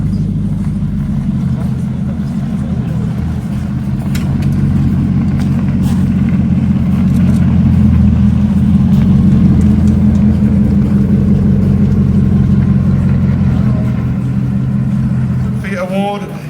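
A Bugatti Bolide hypercar with an 1850 hp engine idles loudly after a cold start at the Villa d'Este concours, a steady deep rumble that holds for over fifteen seconds before tailing off as a voice starts.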